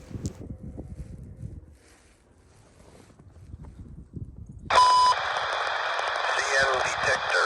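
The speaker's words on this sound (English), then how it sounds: "Then I got the mile 31 defect detector for the next train." A CN railway defect detector at mile 31 breaks squelch with a tone, then a broadband radio transmission hisses loudly and steadily, following quiet trackside ambience with faint low rumbles.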